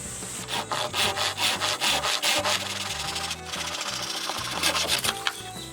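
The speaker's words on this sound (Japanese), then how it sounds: "塩ビのパイプを切るパイプ層ですけど、結構切れますね。" A hand pipe saw meant for PVC pipe cuts outdoors during bamboo felling at an old farmhouse. Close, loud, rhythmic rasping strokes of the blade follow one after another in steady back-and-forth sawing, with no talking.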